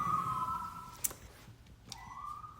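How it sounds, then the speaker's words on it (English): A distant siren rises and falls in two faint wails over low city rumble, with a brief sharp click between them. "You can hear the sirens in the background."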